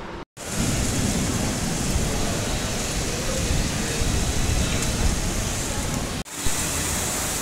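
Heavy rain pours in a steady, dense roar on Grant Road in Mumbai during an unseasonal storm, close and loud throughout, with a brief cut near the start and another before the end, and no distinct thunder crack standing out.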